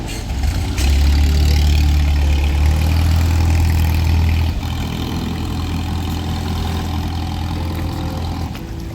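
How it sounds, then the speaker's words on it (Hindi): Long-tail boat engine on a Phi Phi island tour, a steady low droning motor that runs loud and then eases to a softer, continuous hum, with no talking. "ये रही हमारी लॉन्ग टेल बोट और अब हम लोग जा रहे हैं बोट के ऊपर।"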